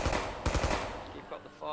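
Rapid video game gunfire in a Wild West shooter: a dense burst of sharp, close shots in the first second, then fading, sparser reports trailing off against a noisy backdrop.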